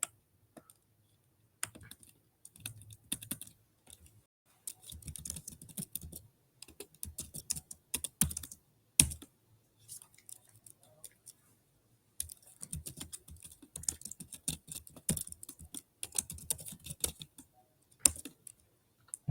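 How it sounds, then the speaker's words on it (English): A git commit command typed on a computer keyboard: long runs of fast, close key clicks with short pauses between bursts, steady and fairly quiet, no voices. "So we will type this command."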